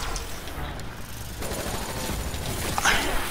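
Steady rapid gunfire in the Gorod map of the zombies mode Rebirth of Zombies, moderately loud and continuous with a brighter burst near the end, under game noise and no talk.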